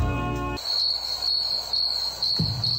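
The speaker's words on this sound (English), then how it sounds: "A lot of crickets out there." Crickets trill outdoors in a continuous high-pitched chirping drone, steady and fairly close, after a short burst of music cuts off.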